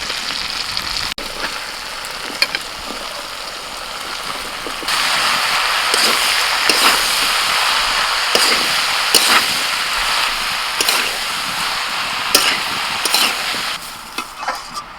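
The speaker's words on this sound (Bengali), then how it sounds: "মশলাটা কষানো হয়ে গেছে এবার কেটে রাখা লাউ দিয়ে দিচ্ছি" Chopped bottle gourd goes into a pan of fried masala with turmeric, salt and a little water. A loud, steady sizzle swells when it lands around the middle, with stirring scrapes and clatters over the top and no talking.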